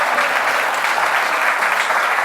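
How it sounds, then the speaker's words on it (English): An audience at a live comedy show claps in a dense, sustained round of applause that fills the room at an even volume. "thanks for the claps"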